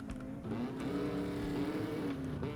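Motorcycle engine in the survival game SCUM, a steady droning hum that rises slightly in pitch as it revs, close and continuous with no talk.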